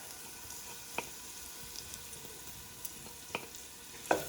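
Pressed garlic fries in a pan for escarole bean soup with a soft, steady sizzle. A few faint taps and clinks of a utensil come through, quiet and close, with no talk.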